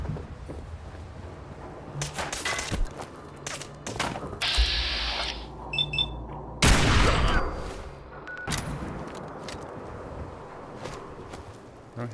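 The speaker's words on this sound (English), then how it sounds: "Sounds like I hear somebody with a silenced pistol." Suppressed 10mm pistol fired by a non-player character in Fallout 4, heard as several sharp, muffled shots scattered over ambient game noise, with one louder close burst in the middle.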